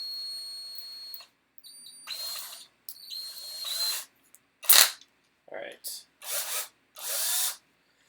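Several short bursts of a power drill with a 7/64 bit whirring, each lasting about a second, separated by brief pauses and a few clicks; fairly close and moderately loud.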